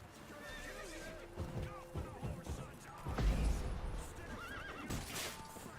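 Horse whinnying and neighing with clip-clopping hooves in The Witcher 3 video game, the neighs rising and falling over several seconds amid game ambience, with a louder thud near the middle.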